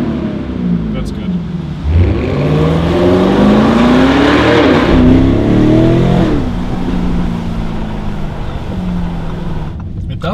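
A Lamborghini Urus SUV fitted with a Novitec carbon body kit revs hard inside a tunnel with its windows down. The engine swells and echoes loudly with rising and falling pitch sweeps, while voices talk over it.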